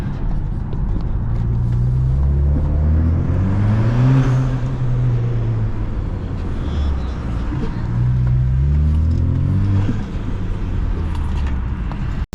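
A BMW 335i with the N54 twin-turbo engine drives along, a steady loud engine drone rising and falling in pitch through two acceleration pulls, with a faint whirring over it and a brief thump at the very end.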